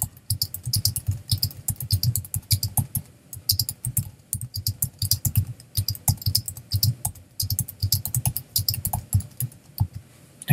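Computer keyboard typing and mouse clicking while working in Photoshop, a steady run of close, crisp keystrokes and clicks in irregular bursts throughout.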